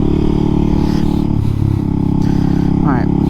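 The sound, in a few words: motorcycle engine revving during wheelie attempts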